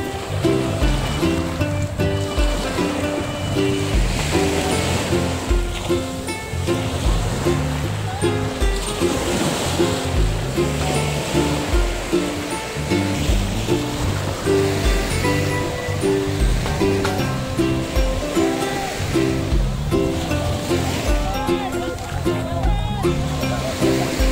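Continuous rushing of waves lapping on the shore at Morong Beach, steady and close, under persistent background music with a rhythmic beat.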